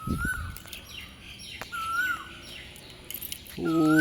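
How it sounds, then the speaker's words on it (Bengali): Birds calling from a tree outdoors give repeated short whistled chirps and rising calls at moderate distance, with a steadier tonal sound entering near the end. "পাখির সাউন্ড"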